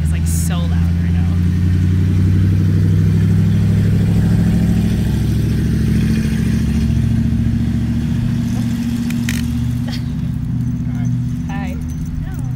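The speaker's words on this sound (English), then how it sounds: "This guy's truck is like so loud right now." A loud truck engine rumbles steadily close by throughout, a low droning roar that keeps going without letup while a person riding a Koowheel electric skateboard talks over it.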